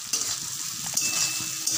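Onion and green chilli fry in oil left from frying fish, a close steady sizzle with light stirring clinks, no voices.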